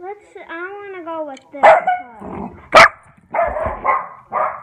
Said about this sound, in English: That's our grandparents' dog barking.